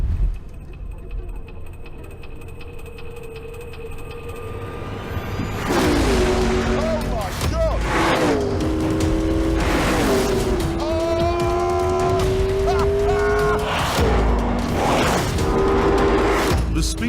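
A McLaren P1 supercar accelerates hard, its engine rising through rapid upshifts in a loud, near run that follows a quieter idle opening, with repeated surging pulls and gear changes.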